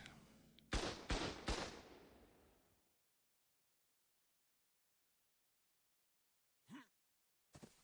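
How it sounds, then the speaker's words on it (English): Gunfire in ARK: Ragnarok Evolved, three loud close shots fired in fast succession, each ringing out into a long fading echo. Then near silence, broken later by two short faint noises. "That's shooting something."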